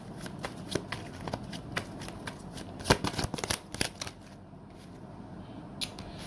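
Tarot cards are shuffled and drawn up close. Crisp riffles, flicks and sharp snaps come in irregular bursts, with a brief lull near the end before a final flick.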